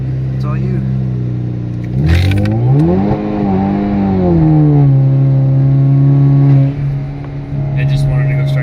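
A 4-cylinder turbocharged Camaro running E85 fuel accelerates hard, its loud engine note climbing in pitch, dipping at a gear change and holding a steady drone before backing off, with occupants talking over it.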